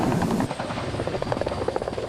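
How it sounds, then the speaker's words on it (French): Helicopter in an AI-generated scene: a loud, steady rotor roar with rapid blade chop fills the whole stretch, close and dense, with no voices. "il y a un moment, en fait, où t'entends l'hélicoptère"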